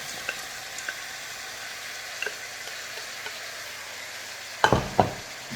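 Shrimp and vegetables stir-fry over high heat for Asian noodles, giving a steady close sizzle with faint scattered ticks, then a couple of louder clanks of a utensil near the end.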